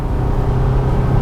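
A Volkswagen Amarok V6 Extreme pickup engine pulls hard under load, a steady loud low rumble and whir from inside the cab with no break over the short moment.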